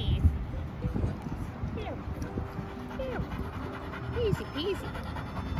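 A dog pants steadily at close range while having its teeth and paws looked at, with people talking over the panting throughout.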